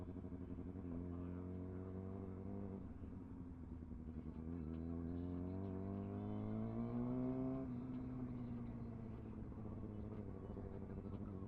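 Superbike motorcycle engines at a meet rumble nearby at a steady low idle, rising briefly in pitch as one revs mid-way before settling back. No voices are heard.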